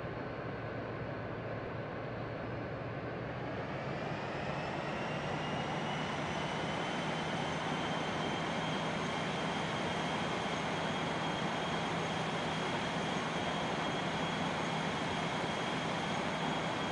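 A Flybe Embraer E-190 jet accelerating down runway 27 on its takeoff roll, a steady loud engine roar heard from the cabin that rises in pitch and intensity after a few seconds and holds, with no talk.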